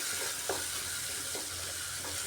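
Pointed gourd sautéing in a pan with cumin, turmeric and salt, a soft continuous sizzle with a few brief stirring scrapes, close and fairly quiet.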